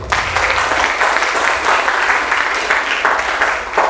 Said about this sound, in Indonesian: Kita tepuk tangannya untuk para beliau